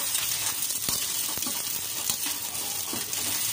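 Crab pieces for a coconut-milk crab dish sizzle steadily in a pan, with a few sharp stirring knocks and scrapes of a spoon at close range, no voices.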